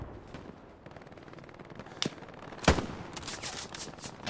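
Gunfire coming from above in the World War II shooter Hell Let Loose, with a few sharp single shots and a louder burst near the middle, followed by scattered trailing cracks at moderate distance.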